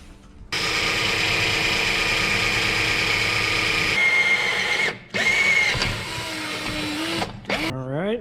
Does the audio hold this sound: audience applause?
no